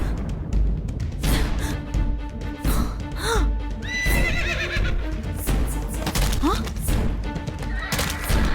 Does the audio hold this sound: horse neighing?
yes